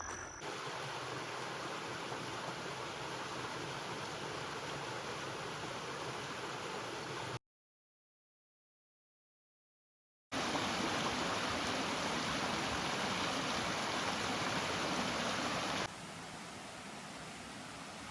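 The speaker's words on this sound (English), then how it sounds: "We just crossed the Willow Creek." Steady broadband rush of Willow Creek's flowing water near Stone Mountain State Park, North Carolina, continuous and fairly close, with a short silent gap partway through.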